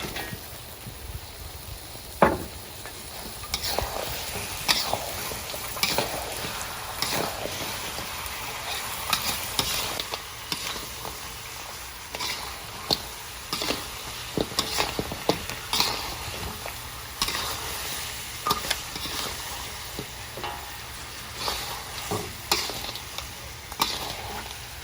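Lobster fries in butter in a pan for a Khmer braised butter lobster dish, with a steady soft sizzle broken by frequent scraping and clinking as it is stirred and tossed, close up and without talk.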